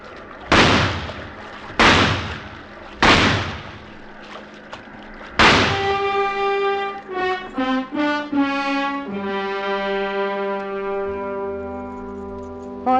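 Gunshots as a sound effect in a classic radio adventure drama: four loud, sharp shots spaced about a second apart, then dramatic orchestral music rising with sustained chords.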